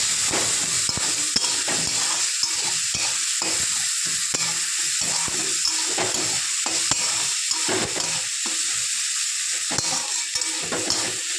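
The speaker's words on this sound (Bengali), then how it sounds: "ভালো করে ভেজে নিতে হবে" Garlic and other food fry in a pan with a continuous hissing sizzle, broken by rhythmic scraping stirs close up, steady throughout with no talk.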